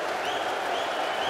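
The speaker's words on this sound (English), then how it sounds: "Rob Cross applauds and says well done and leads the crowd in their celebration." A brief burst of steady applause from a packed darts arena crowd at the Players Championship Finals, celebrating a nine-dart finish. It is a continuous wash of clapping.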